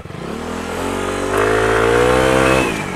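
A Yamaha Aerox scooter with its engine upgraded from 155cc to 195cc revs hard and close, the pitch climbing steadily and then holding at a loud, sustained high whine before easing off.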